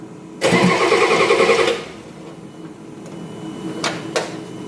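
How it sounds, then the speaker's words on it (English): A diesel engine in a Ford Bullnose pickup truck, with air in its fuel system, cranks for about a second and a half, then catches and settles into a low idle, with a couple of faint clicks afterward. "I can crank the engine this way."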